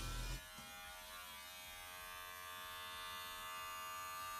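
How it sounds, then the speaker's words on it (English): Steady high-pitched electric buzz of a hair clipper with its lever fully open, used to cut a fade on a home haircut, starting after a brief noise and running alone and fairly quietly. "Now we can take the clipper and go into the fade."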